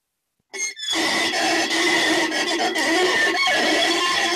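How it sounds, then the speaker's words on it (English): A party noisemaker toy blown at an expat party in the Philippines gives a loud, sustained shrill squeal with wavering tones, starting abruptly after a brief silence and continuing steadily at close range. "I like my noise maker"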